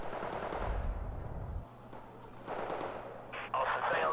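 Gunfire in a tank wargame video game, bursts of rapid shots and booming reports in a battle soundscape, moderately loud, with a low rumble fading partway through.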